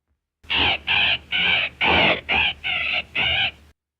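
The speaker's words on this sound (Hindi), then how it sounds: "और ये तोता क्यों चीखें मार रहा है?" A parrot screeches in seven harsh, evenly spaced squawks, loud and close, each about a third of a second, in an old 1933 film with no talk over them.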